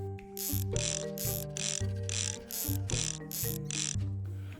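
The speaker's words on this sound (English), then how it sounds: "use the Allen wrench to hold the bolt as you tighten the nut" Ratchet wrench tightening a nut onto a bolt on a wood-burning stove leg, several quick clicking strokes separated by short pauses, close and clear with no talk.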